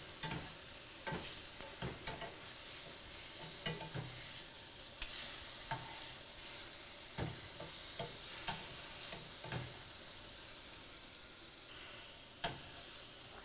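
Chicken frying in a pan for a low-carb dish, with a steady close sizzle broken by repeated sharp clinks and scrapes of stirring and turning throughout.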